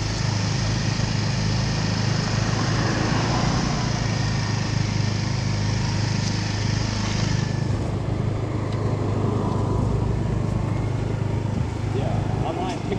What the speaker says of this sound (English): That's the nice thing about having little motorbikes.